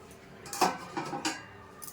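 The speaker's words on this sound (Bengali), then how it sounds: "ঢাকাটা তুলে নিচ্ছি।" A metal lid lifted off a pot on the stove while making semolina bhapa pitha, giving a few close clinks and light metallic rattles, quiet and brief with no talking.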